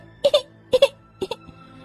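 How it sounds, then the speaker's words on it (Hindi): A baby cries in three short double-burst wails, each pair of sobs separated by brief pauses, close and fairly clear. "अपनी बच्चे की रोने की आवाज सुन"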